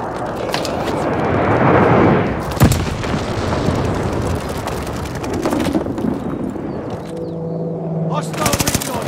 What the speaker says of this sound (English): Got enemy glide bomb on the way.